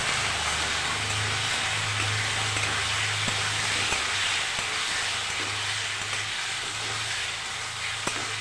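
Spices and potatoes sizzle steadily in a pan as they are sautéed for aloo dum, with a little water added. The broadband frying hiss stays continuous and close, and a low hum sits underneath it.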